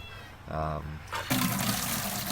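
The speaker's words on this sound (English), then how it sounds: "picking it up and just draining the water out of the hose" Water drains and splashes out of a heated hose taken off a quick-release fitting during winter chicken chores on a farm, a steady rushing pour that grows louder partway through.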